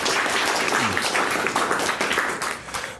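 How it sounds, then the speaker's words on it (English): Applause from an audience after a request to thank a helper named John, a dense, steady wash of many hands clapping that stays loud throughout and tapers slightly at the end. "small round of applause for John"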